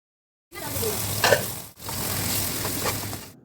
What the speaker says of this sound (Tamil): இப்போ கொஞ்ச நேரம் கொதிக்க விட்டுறலாம்